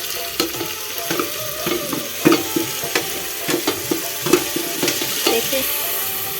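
Chopped tomatoes sizzling and frying in a hot pan for chole, with a steady crackle and repeated stirring scrapes at an even rhythm, heard up close with no talking.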